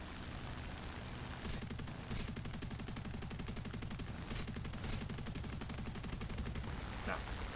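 Rapid machine gun bursts from a Ki-61 fighter in War Thunder, several rattling volleys over a steady engine drone, with short pauses between bursts.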